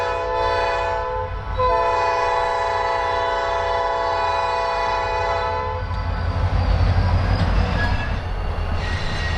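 A diesel locomotive horn blares in long sustained tones, then gives way to the low rumble and clatter of a passing freight train nearby, hauled by an SD40-2 and a rebuilt high-hood locomotive.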